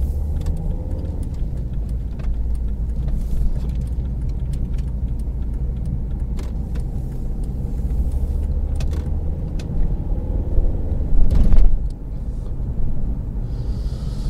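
A car drives along the road from Dover to Margate, its engine and tyre rumble close and steady from inside the cabin, with occasional small rattles and a louder bump near the end.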